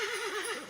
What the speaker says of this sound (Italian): Una slitta trainata da un cavallo bianco stava entrando in paese.